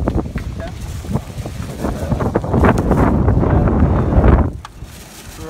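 Loud wind buffets the microphone in heavy rumbling gusts, with faint voices underneath, then eases off near the end.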